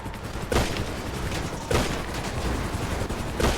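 Gunfire during a hospital shootout in a GTA roleplay game, fought on land and in water: heavy bursts of shots crack out roughly every second or so over a dense, continuous din of battle.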